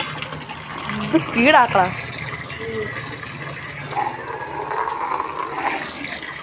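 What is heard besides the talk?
filling a container with water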